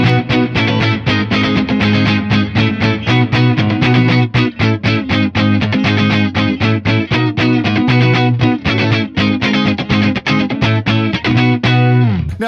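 An electric guitar plays a clean tone with its effects bypassed, a continuous run of loud, closely picked chords and notes with a rhythmic strummed pulse, alone without talk.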